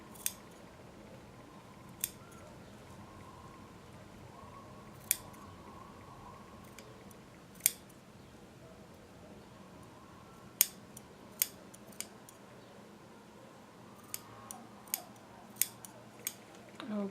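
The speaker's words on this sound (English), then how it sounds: "take your scissors and you can just cut just a little bit into the seam" Sewing scissors snip into a dress seam in short sharp clicks, about a dozen spaced irregularly and coming faster toward the end, close and crisp over quiet room tone.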